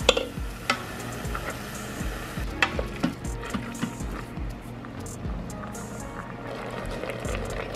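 Ground beef browning in an Instant Pot, a steady sizzling fry with intermittent scraping and stirring clatter from a utensil, fairly close and continuous.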